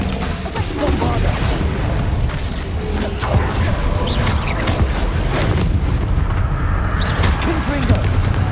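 Spell-blast booms from the Bombarda explosion spell in the video game Hogwarts Legacy, dull thuds scattered through a busy battle din of clatter and effects, steady and loud throughout, with voices talking over it.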